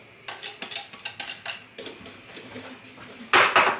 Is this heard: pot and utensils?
yes